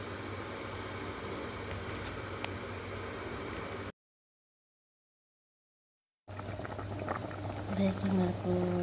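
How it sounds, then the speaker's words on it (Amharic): Small cut pieces of meat simmering in a pot of water for molokhia stew, a steady bubbling hiss with a silent break midway, resuming with a slightly busier bubbling and a voice nearby. "አሁን በዚህ መልኩ መፍላት ጀምሯል።"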